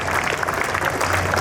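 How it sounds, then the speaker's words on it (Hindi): An audience claps steadily through a brief burst of applause at a school annual function at JNV Suratgarh, with a dense, even patter of many hands. "तालियों में कमी नहीं रहनी चाहिए आपकी।"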